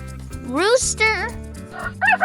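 A rooster gives a single loud, rising and falling crow, close and clear over a light musical backing.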